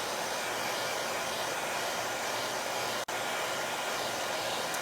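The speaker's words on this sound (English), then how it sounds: "So I'm just gonna go ahead and blow this dry again." A blow dryer roars steadily, loud and close, as it dries chalk paste on a craft project, with one very brief dip near the end and no talking.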